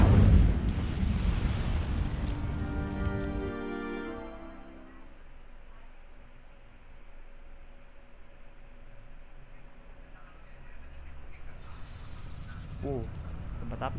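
In the Hogwarts Legacy video game, an Incendio fire spell ignites dry vines with a loud whooshing burst that quickly fades into a low crackling rumble, followed by soft magical shimmering tones.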